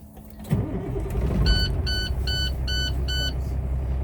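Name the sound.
truck engine starting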